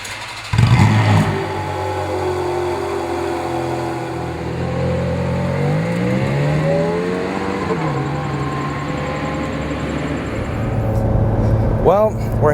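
A 2009 Ferrari 430 Scuderia, nearly new and all stock, starts and idles, then its engine revs up and winds down in a long rising and falling sweep, loud and close, before a sharp burst of acceleration.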